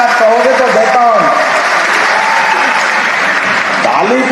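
Crowd at a political rally applauding loudly and steadily throughout, with a voice speaking over the clapping at the start and again near the end.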